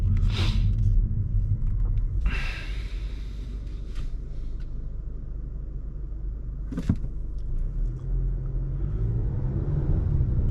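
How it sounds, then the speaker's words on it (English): A 2024 Acura TLX A-Spec accelerates from inside the cabin, a low steady engine rumble with faint turbo intake whoosh rising over it and a few brief higher-pitched bursts, no talking. "Can hear a little bit of intake noise from the turbo."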